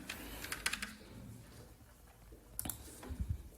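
Keys tap on a computer keyboard as an amount is entered into a tax form, a few quiet clustered clicks at the start and again near the end over a low background hum.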